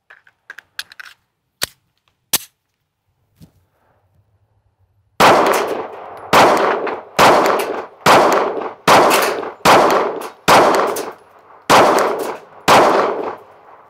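A Sig Sauer P365 pistol fires brass-cased Remington UMC ammunition. After a few faint clicks and handling noises, about a dozen loud, sharp shots follow at a steady pace of roughly one every two thirds of a second.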